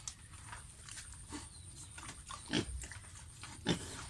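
Faint farmyard sounds in the Cambodian countryside, with a pig eating among chickens: soft snuffling and scattered rustles against a constant background hiss, with a couple of slightly louder knocks.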